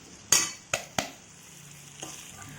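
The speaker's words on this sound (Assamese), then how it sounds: "তাৰপিছত আমি তিল মটৰ গোটেই মিশ্ৰণখিনি ভালদৰে লৰাই আছোঁ" A spoon stirs a frying sesame and pea chutney mixture in a pan, giving three sharp scraping knocks in quick succession, then a softer one, over a quiet background sizzle.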